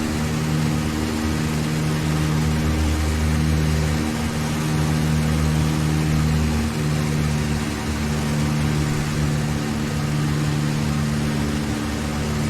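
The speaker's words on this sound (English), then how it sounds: "my voice volume might be competing with the engine volume" An aircraft engine in the X-Plane flight simulator drones continuously, a loud, steady humming tone that holds constant for the full length with no talking over it.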